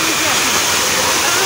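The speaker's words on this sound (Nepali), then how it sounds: "यो पानीको फोर्सै हो नि होइन।" A waterfall at Kathmandu Zoo, with a loud, steady broadband rush of falling water filling the whole moment, close and continuous.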